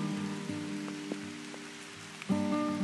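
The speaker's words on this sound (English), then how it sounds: "We are having a really heavy rain right now." Heavy rain pouring down on a rainy day, a steady dense wash of drops with a constant tonal hum underneath and a few soft knocks, no one speaking.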